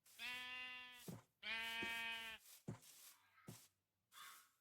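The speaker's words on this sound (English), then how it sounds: "I think they're sheep. Yeah, it's just gray sheep." Two long, loud sheep bleats in the video game Craft to Exile 2, followed by a few shorter, fainter bleats and soft thuds, with no talking.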